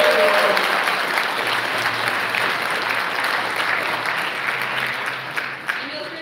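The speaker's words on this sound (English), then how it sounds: "So please give them another round of applause." Audience at a high school winter concert applauding a band, a steady, dense wash of clapping that holds loud and continuous throughout with no talk over it.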